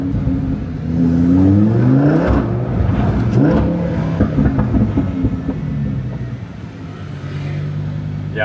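A supercar engine revs loudly close by, its pitch rising and falling over several seconds with a deep exhaust rumble, then settling back to a steady idle.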